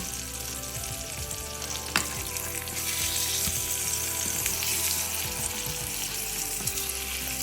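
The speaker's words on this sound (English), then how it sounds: "saute it 9 minutes on the skin side" A salmon fillet sears skin side down in a pan, giving a steady, close sizzle that stays constant throughout with only a small pop now and then.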